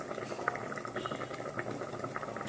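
A pot of steaming poppy seed paste (posto bhapa) bubbles and boils steadily, a soft continuous burble of small pops heard close and fairly quiet.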